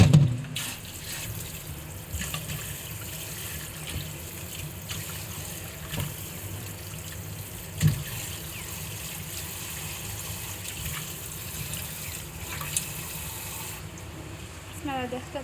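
Tap water runs into a sink while meat is being washed, a steady close trickle and splash with occasional knocks and bumps, with a voice speaking at times.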